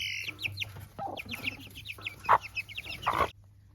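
Chickens cluck and murmur nearby in a busy, overlapping stream of short calls, with a couple of louder squawks toward the end.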